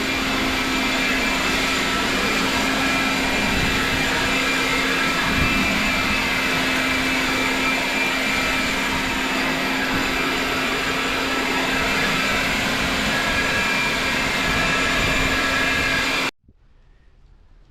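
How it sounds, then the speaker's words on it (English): HanQi cordless leaf blower pushing wet leaves, a loud constant whooshing roar with a steady motor whine that holds level before cutting off abruptly near the end. "For blowing wet leaves, kind of struggles a little bit,"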